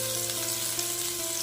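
Vegetable stems frying in a pan with salt, a steady close sizzle and crackle over a low constant hum, with no talking.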